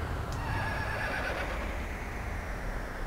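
A horse whinnies in Romancing SaGa 3, a thin neigh over a steady wash of game music and ambient noise, moderately faint and without talk.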